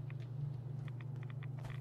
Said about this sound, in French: Oh la vache, c'est pas un petit orage.